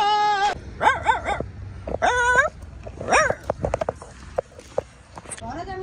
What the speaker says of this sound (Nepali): यो कुकुर हाम्रो पछि पछि छ